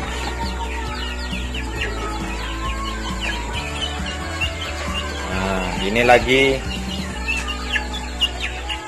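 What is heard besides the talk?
chickens clucking in coop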